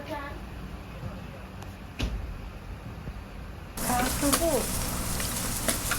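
Pork sizzles on a hot Thai tabletop grill at a riverside raft in Kanchanaburi, growing suddenly louder and crackling partway through, a steady close hiss with faint background noise.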